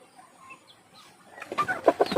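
A few short clucks from a chicken on a farm, faint at first, then a quick burst of louder clucking near the end.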